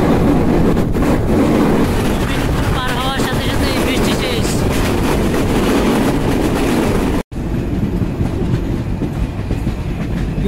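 The Tungipara Express intercity train crosses at Mominpur station on a rainy day, with a loud, close, continuous rumble and clickety-clack of passing carriages and a brief cut near the end.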